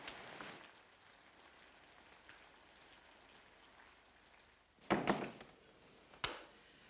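Steady rain patters on a surface throughout, with a couple of sharp thumps, like a door bumping, breaking through near the end.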